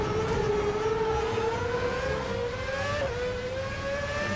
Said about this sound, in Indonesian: Sumpah keren banget suara mobil ini.